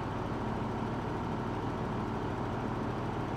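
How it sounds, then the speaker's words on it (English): A Nissan 300ZX Z31 engine idling after 20 years abandoned, a loud, steady low rumble that holds even throughout with no variation. "See if it'll idle. It runs smooth."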